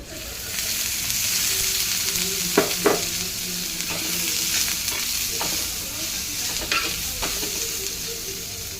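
Onions frying in oil for a chicken gravy, a continuous loud sizzle with a spoon stirring and scraping the pan at intervals throughout.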